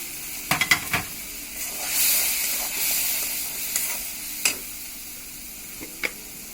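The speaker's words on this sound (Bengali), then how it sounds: "এখন সব একত্র করে মশলাগুলোকে কষিয়ে নেব।" Ground chili, coriander and cumin powders with ginger paste fry in a pan for an egg and eggplant curry, a soft steady sizzle broken by several sharp spoon scrapes and clinks, fairly quiet and close, with no talking.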